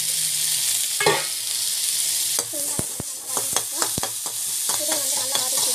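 Spices sautéing in a frying pan, a loud close sizzle broken by a burst of stirring and then a run of sharp clacks and scrapes of a spoon against the pan, no speech.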